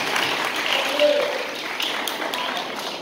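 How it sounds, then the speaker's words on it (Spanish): A graduation audience at a Bible-school kindergarten in Puerto Plata, Dominican Republic, applauds with steady, dense clapping that holds at a moderate level throughout, with a voice faintly under it. "Un aplauso"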